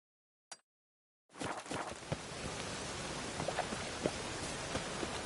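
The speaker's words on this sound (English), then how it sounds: "Rain again." Rain in The Witcher 3 sets in after a brief click and a pause of silence, becoming a steady hissing downpour with scattered close drops spattering on surfaces.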